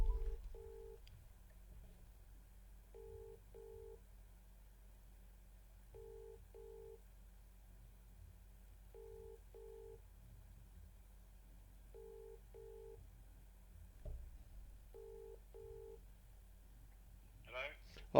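Phone keypad tones dialed in repeated paired bursts over a faint line hiss while a caller tries to merge a second person into a call, ending in brief rustle; no speech heard.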